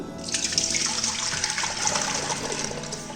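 Milk, 1.5 litres, is poured from a height into a cooking pot, making a steady, splashing liquid rush that starts abruptly and runs continuously at close range.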